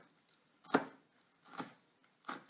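A knife chops scallions on a cutting board in a home kitchen, three separate crisp strikes spaced out and heard close and clear, with no talking.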